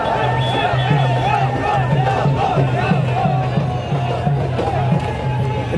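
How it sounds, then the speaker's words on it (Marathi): A crowd of cricket fans in Bhiwandi celebrates Team India's Champions Trophy win with loud, continuous cheering, rhythmic drumbeats and shouting, with a voice talking over the festive din. "टीम इंडियाच्या विजयानंतर भिवंडीमध्ये जल्लोष करण्यात आलाय"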